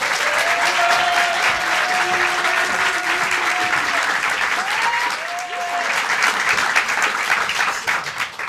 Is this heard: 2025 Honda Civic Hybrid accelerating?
no